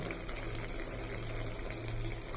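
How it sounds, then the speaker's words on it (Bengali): Tamarind water poured into a cooking pot of eggplant for a sweet-sour Bengali dish, a soft continuous liquid trickle and gush, fairly quiet and steady throughout. "আমরা তেঁতুল জল দিচ্ছি"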